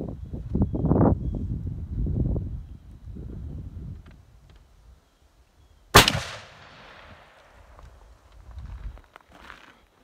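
A muzzleloader rifle fires a single sharp, loud shot outdoors, with a short rolling echo trailing off. Quiet rustling and footsteps come before it and follow it.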